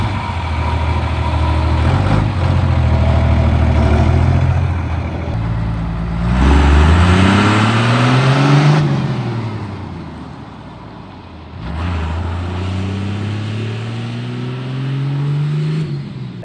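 A drag truck's engine revs hard and rises in pitch several times, each rev sweeping up and falling back between idling stretches, loud and close with no talk over it.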